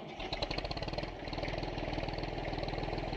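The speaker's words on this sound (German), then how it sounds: "Wir machen jetzt einfach mal den Motor an." An IMT 533 tractor engine in Farming Simulator 19 turns over with a rapid rhythmic cranking chug, then catches and settles into a steady, low, rumbling idle.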